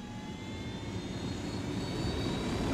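A helicopter flies in Ghost Recon Wildlands, giving a steady, continuous engine drone that swells slightly louder over the few seconds, with no voices.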